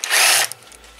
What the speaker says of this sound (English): we are going to get the impact and continue removing them